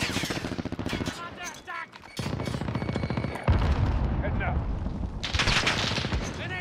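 Call of Duty Warzone gameplay with dense automatic gunfire: rapid machine-gun bursts and loud shots, nearly continuous with a brief lull, under occasional talk.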